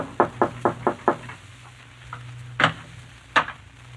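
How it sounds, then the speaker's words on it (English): Knocks on a wooden door in an old-time radio mystery drama: a quick series of five or six close raps, then a pause and two louder separate knocks, with a low steady hum underneath. "you go upstairs and knock on the door"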